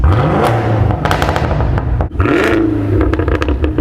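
A Cadillac CT5-V Blackwing fitted with an AWE SwitchPath exhaust fires up, the starter whirring into a loud, throaty engine roar that surges, dips briefly, then revs again close by.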